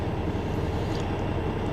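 Train rolling along nearby tracks, a steady dense low rumble with continuous rail noise throughout, fairly loud and close, with no talking.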